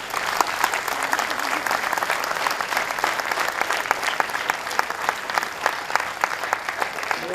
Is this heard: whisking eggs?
no